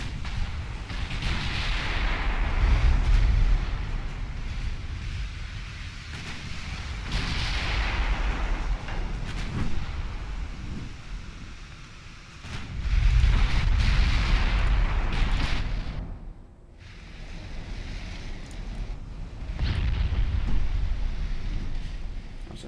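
Naval gunfire and shell hits in Ultimate Admiral Dreadnoughts, with heavy guns up to 16-inch: deep booming salvos rolling in long waves, loud and rumbling, with a brief lull between barrages.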